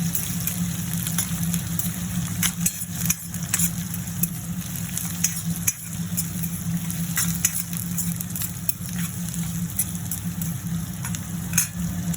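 Sliced onions frying in oil toward golden for a home-style chicken curry, a continuous close sizzle with occasional scraping stirs and utensil knocks against the pan, no talking.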